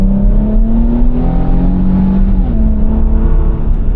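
A 2025 Infiniti QX80 SUV with a 450-horsepower engine accelerates hard, its steady loud engine drone climbing in pitch and then shifting down before rising again, heard close and continuous without any talk.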